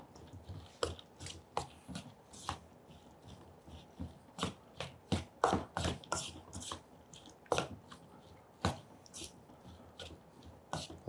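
Mushroom ravioli filling being stirred with cheese by hand, a run of close, wet squishing and tapping strokes in an uneven rhythm, fairly soft, with no talking.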